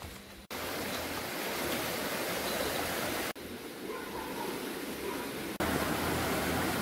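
Rushing river water at the Gauri river bridge, a steady broadband roar that runs unbroken throughout, loud and close, with brief dropouts where the sound cuts.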